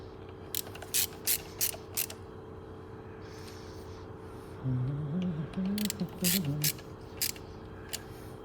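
A ratchet wrench tightens the bolts on manual hub lockers fitted to a Nissan Terrano, giving short bursts of close, sharp clicking with pauses between them; a voice talks briefly in the middle.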